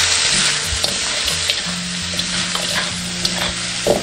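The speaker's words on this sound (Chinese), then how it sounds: "炒出香味过后，下入鸡爪" Chicken feet stir-fried in a wok with celery, green and red peppers, garlic and pepper salt, giving a steady loud sizzle with intermittent scraping of the spatula, close and continuous, with no talking.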